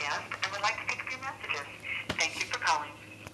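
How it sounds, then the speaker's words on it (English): A telephone ringing on the line during a prank call, repeated ring tones heard through the handset while people talk over them. "It's ringing."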